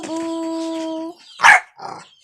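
A dog gives one sharp bark near the middle, followed by a shorter yelping sound, after a sustained whining, tonal sound. Nearby and fairly loud, with talk around it.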